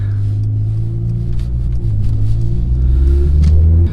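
A 2016 Mercedes-Benz C450 AMG drives off, its engine a deep, loud rumble that climbs and swells as it pulls away, heard close up with no talking.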